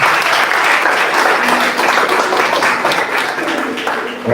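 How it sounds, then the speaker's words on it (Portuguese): A church congregation applauding together, loud dense clapping that carries on steadily for several seconds before thinning slightly near the end. "Palmas para o Senhor Jesus"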